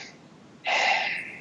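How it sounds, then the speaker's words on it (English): A single deep breath drawn in sharply, a short breathy rush that starts abruptly after a near-silent moment and stays close and clear before fading. "hey, take a breath"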